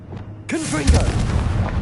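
A Confringo fire spell from Hogwarts Legacy bursts in as a loud, sudden whooshing blast with a booming low rumble that trails off, over game effects.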